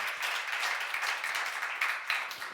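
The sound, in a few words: congregation applause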